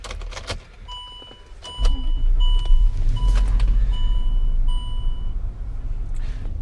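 A Range Rover engine cranks and catches, then settles into a loud, steady low idle close by, with dashboard chimes beeping at a regular pace over the rumble.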